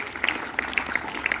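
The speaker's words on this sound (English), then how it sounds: "A big round of applause for the 12th science." Brief applause for a team at a school biology quiz: a short burst of scattered, fairly light clapping, a few sharp hand claps standing out over a soft wash of room noise.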